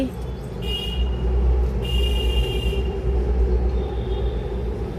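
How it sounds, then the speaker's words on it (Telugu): A train rumbles past close by, a heavy steady roar with high metallic squeals breaking through in bursts. "ట్రైన్ కూడా వచ్చేసింది"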